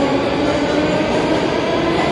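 Loud, continuous rumble of a subway train at Ploshchad Revolyutsii station in the Moscow Metro, a dense steady roar with no speech.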